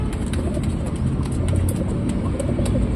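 A high flyer pigeon in Hyderabad, Telangana, coos nearby in soft, low, repeated throaty calls, with faint traffic noise behind it.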